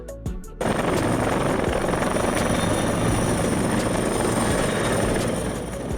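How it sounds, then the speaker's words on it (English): A firefighting helicopter's rotor thumps rapidly and continuously, loud and close, following a short choppy burst at the start. "A helicopter equipped with water tanks or buckets to help extinguish wildfires."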